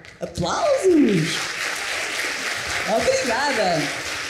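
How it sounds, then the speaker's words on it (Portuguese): Concert audience claps for the woodwind section of an orchestra, flute, oboe, clarinet and bassoon, with a broad wash of applause under a speaking voice. "Aplausos!"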